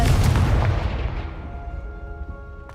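A Confringo fire spell in Hogwarts Legacy detonates with a single heavy, booming blast that rolls and fades over about two seconds.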